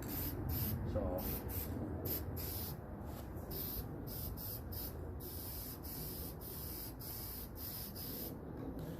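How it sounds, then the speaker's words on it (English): A steady hiss of aerosol spraying runs throughout, broken by brief pauses as the nozzle is released and pressed again. "I'll spray from about, you know, 8 or 10 inches."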